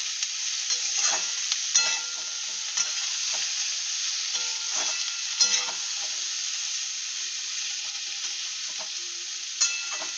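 Steady sizzle of cauliflower and potatoes frying in a pan, with occasional scraping stirs and light clinks, continuous and close, no voices.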